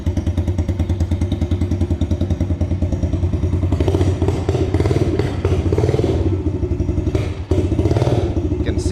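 A 2026 Yamaha 110 motorcycle engine idles just after an electric start, a loud, close, steady single-cylinder putter with mechanical clatter and a brief dip as it threatens to cut out.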